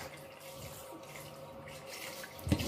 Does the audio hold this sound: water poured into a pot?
yes